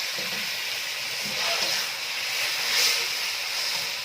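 Chopped tomatoes hiss and sizzle steadily in a hot pan over ginger-garlic paste while cooking chicken masala, a continuous bright crackle with slight swells.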